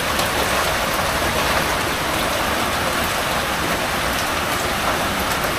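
Heavy rain falls steadily and loudly, a dense unbroken hiss of drops pounding surfaces close by with no let-up.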